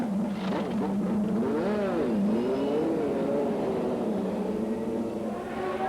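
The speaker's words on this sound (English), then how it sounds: "These are always tense moments before the car runs for the first time" A 1994 Newman Haas Lola IndyCar engine runs in the pit lane before a season-opening race, its loud, close, steady drone rising and falling in pitch as it is revved.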